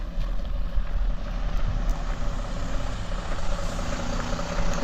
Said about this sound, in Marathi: बघूया ही आता एक गाडी पास होते